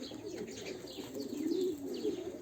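Domestic Turkish pigeons cooing nearby in a coop, soft low rolling coos rising and falling, with faint chirps and a brief flutter of wings in the background.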